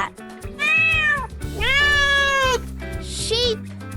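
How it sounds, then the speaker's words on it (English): A cat meows three times in clear, close succession. The first two calls are long and drawn out and the last is shorter, heard over soft background music. "Cat."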